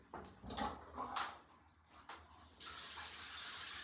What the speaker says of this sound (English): Using a cool water shower head.